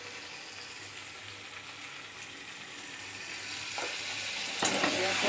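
Poppy seed paste being stirred in a pan with potatoes and pointed gourd, a steady wet frying hiss and scraping that grows slightly louder and busier toward the end.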